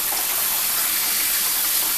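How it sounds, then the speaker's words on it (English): Cold tap water gushes over freshly cooked pasta noodles being rinsed, a loud, steady rush of running water that lasts the full two seconds with no talking. "what I'm doing now is just rinsing them in really cold water"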